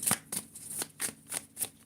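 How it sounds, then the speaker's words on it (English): A deck of playing cards is shuffled up close, giving a quick series of soft riffling bursts and flutters in an uneven rhythm, with no voices. "I'm only going to shuffle once"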